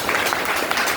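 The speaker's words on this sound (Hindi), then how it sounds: "उनके लिए जोरदार ताली हो जाए" Audience at a business gathering breaking into applause for an upline leader, a dense, continuous wash of many hands clapping with faint voices mixed in.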